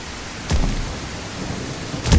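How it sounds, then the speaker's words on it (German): Rain in the video game Bigfoot Life, a steady hiss of falling rain with two sharp thunder-like bursts, one early and one at the end. "Aber dieser Regen, der nervt schon hart irgendwie, ne?"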